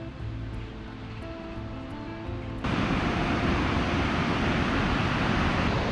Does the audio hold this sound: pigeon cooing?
no